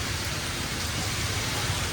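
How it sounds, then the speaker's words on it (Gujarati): Heavy downpour of rain, a dense steady roar of broadband noise with no pauses, loud and close throughout. "વરસાદ આવે છે ધોધમાર"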